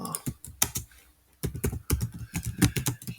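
Keystrokes on a computer keyboard while entering HyperMesh Tcl script commands, a close burst of rapid clicks, a brief pause, then a steady run of taps.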